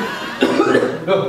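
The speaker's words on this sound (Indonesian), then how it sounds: "Siapa yang batuk tadi?" A couple of sharp, nearby coughs burst out, the second following shortly after the first, with a rough, throaty edge.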